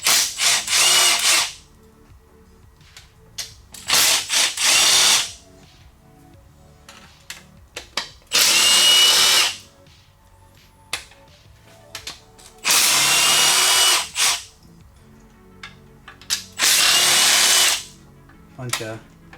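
Power tool working on the supercharger blower of a G48 engine, firing in repeated short loud bursts separated by quiet pauses with faint clanks between, close by.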